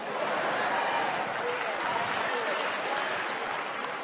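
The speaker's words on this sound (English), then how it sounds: "to the 10 people that clapped" Applause from an audience at a gospel event, a dense, even wash of clapping that runs throughout at moderate level, with faint crowd murmur mixed in.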